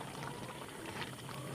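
Bottle gourd payesh simmering in a covered pot on the stove, a steady low bubbling hiss that continues without pause, close and moderately quiet, with no talking.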